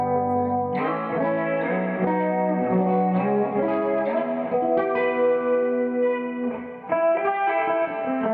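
An electric guitar plays through a lightly set chorus modulation pedal: clear, shimmering strummed chords and single-note phrases that move continuously for several seconds with a gentle wavering sheen.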